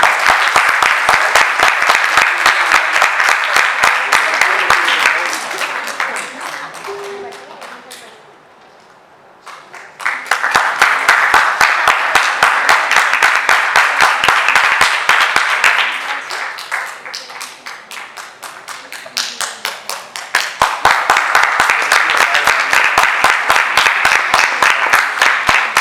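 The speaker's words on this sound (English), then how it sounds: "Let's give her a huge round of applause once again." Loud, dense applause from a large crowd at a Founder's Day celebration comes in three sustained waves, dropping off briefly between bursts before swelling again.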